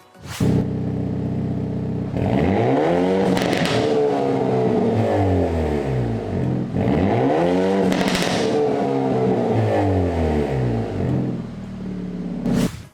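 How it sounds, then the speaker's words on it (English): A 2022 Hyundai Elantra N with an MBRP exhaust revs up and down in repeated swells, a deep rumbling note rising and falling in pitch, loud and close with no talking. "It's got a pretty noticeable exhaust note."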